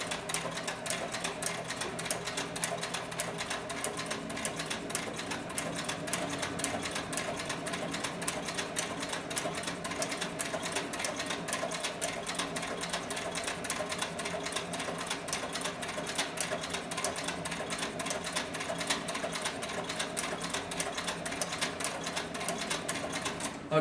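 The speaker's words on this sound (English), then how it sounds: "as I continue to press farther and farther and farther down on the pedal, you'll see that the speed of the sewing machine can pick up." A 4500 model sewing machine for thick materials, leather and upholstery runs steadily for the whole stretch, a dense, fast mechanical whirring and rattling as the pedal is pressed farther down, with no one speaking over it.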